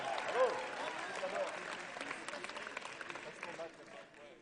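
Audience applause at a party congress, a moderately distant, continuous wash of clapping from a large hall, with a voice heard over it near the start and the clapping thinning out at the end.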